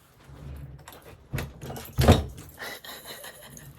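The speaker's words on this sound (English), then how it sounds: "Why are you pushing my door open?" A door pushed open indoors, a few soft thumps and creaks leading to a louder knock of the door moving, heard close in a quiet room.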